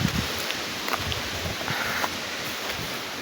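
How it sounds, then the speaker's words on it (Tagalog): Strong southwest monsoon wind in a rural Bicol province setting, a steady broadband rush with low rumbling gusts buffeting the microphone, loud and continuous with no voices. "Malakas yung hangin habagat."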